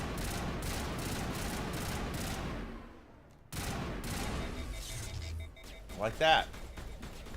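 Rapid gunfire fills a session of the video game Mass Effect, with dense, continuous bursts that drop out briefly and then resume, while someone talks over the shooting.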